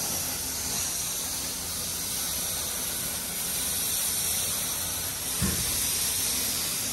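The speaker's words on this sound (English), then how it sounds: "Hari ni kita nak spray cover enjin ya." A steady, fairly loud hiss of spray paint on a Mercedes engine cover runs without pause, with a short thump partway through.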